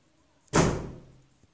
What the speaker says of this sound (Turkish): Arkadaşlar kapı kapandı.